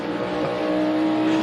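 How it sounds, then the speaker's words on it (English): NASCAR Cup cars roar around Darlington Raceway during the 2024 Goodyear 400, a steady loud engine drone with a sustained pitch as the field runs past under caution after a front-straightaway wreck. "Zane Smith is wrecked on the front straightaway, guys."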